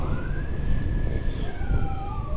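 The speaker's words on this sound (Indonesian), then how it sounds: "ini sirinenya ganti lagi guys." An ambulance siren wails in long rising and falling sweeps amid traffic rumble, moderately loud and a short distance away.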